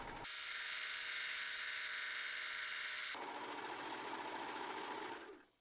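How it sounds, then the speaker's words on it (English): A serger overlocks the seam allowances on a medieval hood, a loud, close, steady high-speed whir that shifts pitch partway through and then runs down to a stop. "Serge the seam allowances together."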